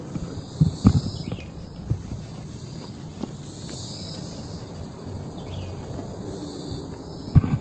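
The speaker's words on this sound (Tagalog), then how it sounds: "Mga insekto." Insects chirp steadily in a forest on a mountain hiking trail, a continuous high buzzing layer with scattered low thumps and rustles nearby.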